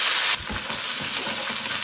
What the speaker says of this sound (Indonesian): kita mau tumis pakai minyak bekas goreng ikan tadi aja nggak apa-apa